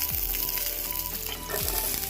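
Chopped green chillies frying in a generous amount of mustard oil in a pan, a steady close sizzle and crackle with a few spatula scrapes, no voices.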